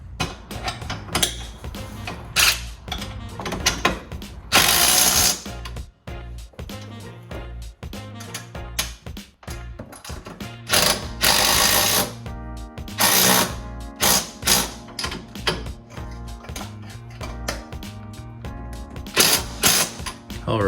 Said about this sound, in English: then we'll torque down the rear subframe connector bolts